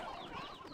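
Chickens in the video game Slime Rancher 2 clucking in a quiet, brief burst, a cluster of soft fowl calls.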